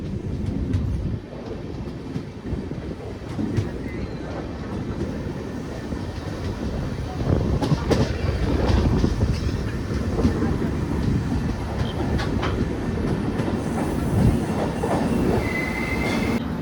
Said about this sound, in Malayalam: 15 മിനിറ്റ് ഡിലേയോടെ നമ്മൾ ആലുവ സ്റ്റേഷൻ വന്ന് കയറിക്കൊണ്ടിരിക്കുകയാണ് നമ്മുടെ ഇന്റർസിറ്റി